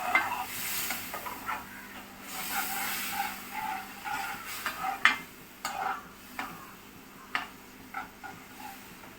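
Mango pickle base of turmeric, chilli powder and vinegar heating in a pan, a soft continuous sizzle broken by scattered stirring scrapes and clicks of a utensil, close by with no voices.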